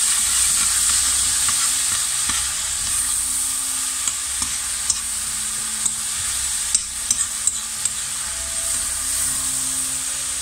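Honey-glazed vegetables sizzle steadily in a hot frying pan while a utensil stirs them, adding scattered clicks and scrapes over the constant frying hiss. No one speaks.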